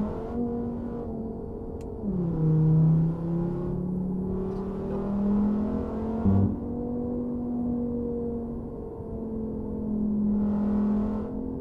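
A Dodge Challenger Hellcat SRT engine in American Truck Simulator drones steadily, its pitch dipping and climbing as the revs shift on a windy road, loud and close with no voices.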